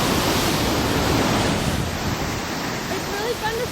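Ocean surf at a private beach in Laguna Beach, a steady broad wash of breaking waves mixed with wind buffeting the microphone, loud and continuous.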